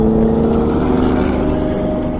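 A 2023 Chevrolet Camaro LT1 RS convertible with a 10-speed gearbox gives a loud, steady engine drone with a slight rise in pitch as it downshifts, heard close up with no talk.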